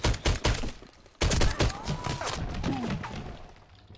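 Bursts of machine gun fire in the online shooter Warface, several sharp volleys at the start, then a longer loud burst followed by rattling fire and game effects fading into the background.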